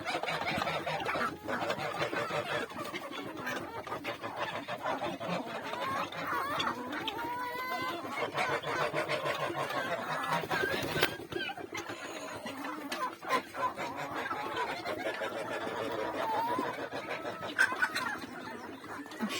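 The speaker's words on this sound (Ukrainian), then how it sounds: "півник це шовковий" A silkie rooster and mixed chickens cluck in a yard with ducks nearby, with steady soft clucking and occasional louder calls, heard under someone talking.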